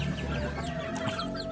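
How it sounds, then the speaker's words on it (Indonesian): Bangkok chicken clucking steadily while eating papaya leaves, close and continuous with busy farmyard background. "Nah ini ayam bangkoknya, lahap sekali dia makan daun pepayanya."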